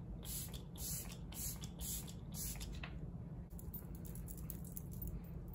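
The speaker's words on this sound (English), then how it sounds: "Ooh, it has a really fine mist." An e.l.f. facial setting spray releases a fine mist in several short, close hissing bursts in quick succession, followed by a steady low background hum.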